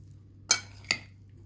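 Two spoons toss dried sour cherries with pomegranate paste in a bowl, giving two brief, close metallic clinks about half a second apart in a quiet room.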